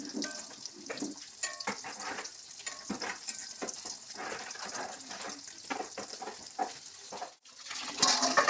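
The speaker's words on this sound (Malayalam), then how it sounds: "പരിപ്പ് വട ഷേപ്പിൽ ആക്കി പൊരിച്ചെടുക്കാം." Jackfruit seed vada, shaped like parippu vada, fry in hot oil with a dense, continuous sizzle and crackle, steady throughout with brief bubbling bursts and a short dip near the end.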